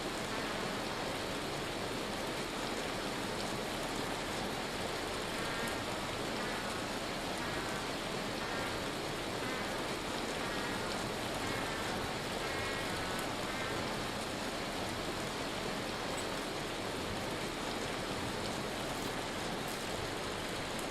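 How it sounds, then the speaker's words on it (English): Steady rain hisses through the video game Vintage Story. It is a dense, even wash of falling water that stays constant the whole time with no other sounds. "I'm gonna put the rain sound a little bit softer because"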